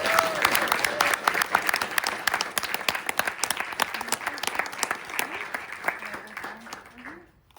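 Audience applause after a talk at a Harvard GSD session, a dense sustained wash of many hands clapping that gradually thins and fades out near the end, with brief speech fragments mixed in.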